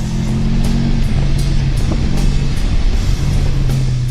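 Race cars on a narrow mountain touge road in second gear, a loud continuous engine drone with rising and falling revs and rhythmic gear pulses, close and unbroken.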